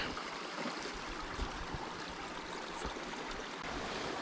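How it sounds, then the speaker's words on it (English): A small forest stream near a beaver dam flows and trickles steadily nearby, a soft continuous babble of water with no other sounds. "came across this great little stream and a huge beaver dam"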